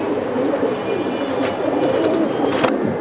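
Pigeons at a market stall for breeds such as silver bezi and pankhi, with a soft, steady cooing murmur running throughout, fairly close and continuous, overlaid by brief rustling flutters near the end.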